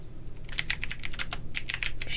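Rapid clicky typing on a computer keyboard, a quick uneven run of close, crisp keystrokes that starts after a brief pause and carries on alone without speech.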